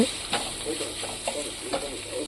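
Ginger and garlic sauté in a pan for pepper chicken fry, a continuous oily sizzle with rhythmic spatula scrapes and taps as it is stirred, fairly close and moderate in level.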